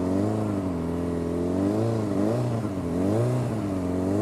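A motorcycle engine revs hard and steady through a wheelie, its loud, close harmonic drone rising and dipping in pitch as the throttle shifts.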